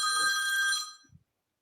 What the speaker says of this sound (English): Sorry, my phone's just gone off.